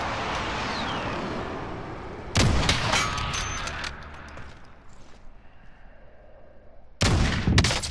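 Gunfire in a battle royale video game: two loud, close bursts of rapid shots separated by quieter stretches of distant game ambience and echoing reports.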